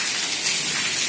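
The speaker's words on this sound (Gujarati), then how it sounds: "ધોધમાર વરસાદ આવે છે" Heavy monsoon rain pours down in Rajkot, a dense, even hiss of water striking surfaces at close range, with no voices.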